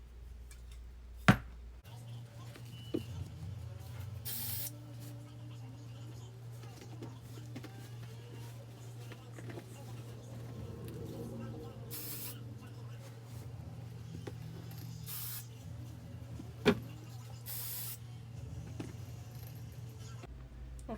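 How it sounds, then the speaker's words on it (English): Apple Brand Gardé Rain repellent is sprayed onto Vachetta leather luggage in several short, soft hissing bursts spaced seconds apart over a low, constant hum. "Okay, so I sprayed my luggage a second time, and I've already sprayed these twice already"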